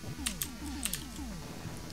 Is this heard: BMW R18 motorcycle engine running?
no